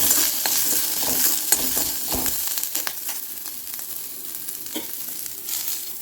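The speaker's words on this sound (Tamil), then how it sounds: "நம்ம இந்த வெங்காயம் வெள்ளைப்பூடு இதையும் நம்ம லேசாக வதக்கி எடுத்துக்கலாம்." Onion, garlic and ginger sautéing in hot oil, a steady close sizzle with scraping stir strokes from a spoon running through it, no voices.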